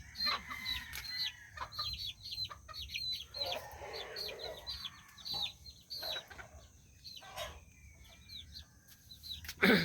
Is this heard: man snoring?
no